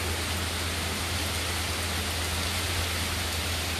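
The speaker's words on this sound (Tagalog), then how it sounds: "Heavy rain here in Maldives." Heavy rain pours steadily in the Maldives, heard from a resort balcony on Meeru Island during a storm: a dense, constant hiss of downpour with a low rumble underneath, loud and unbroken throughout.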